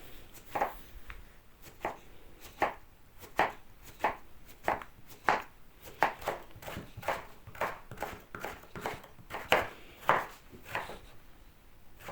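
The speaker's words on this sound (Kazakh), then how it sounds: "Пиязды, асқабақты, жусайды кубиктап турайтын боламыз." Onion, pumpkin and chives are diced with a kitchen knife, giving a steady run of close, crisp chops in an even rhythm of roughly two strikes per second, with no talk.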